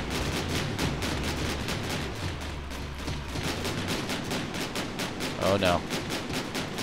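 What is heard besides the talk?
weapon fire hitting the player's battle car, from video game Scraps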